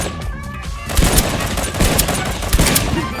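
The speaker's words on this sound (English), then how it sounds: "we shot them 3 times and they died" Gunfire in the online spy shooter Deceive Inc erupts as a rapid burst of loud, close shots that fire in quick succession, a dense fusillade that carries through most of the moment.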